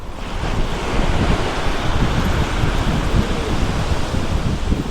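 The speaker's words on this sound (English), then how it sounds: "There's the waves crunching." Small ocean waves break and wash steadily onto the shore in a continuous dense roar, blended with wind buffeting the microphone, loud and close with no speech.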